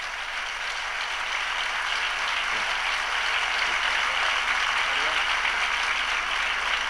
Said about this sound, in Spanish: Recibamos con otro aplauso también muy fuerte para las reinas y su corte del presente año